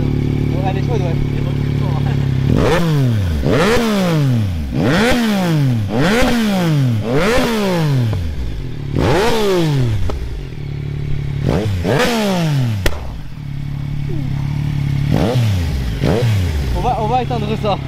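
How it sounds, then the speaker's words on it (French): A Yamaha MT-09 SP motorcycle engine revs again and again up close, with a series of sharp throttle blips that rise and fall in quick succession, each ending in a crackling fall-off, with a few gaps between bursts. "le bruit par contre c'est le son de la MT-9"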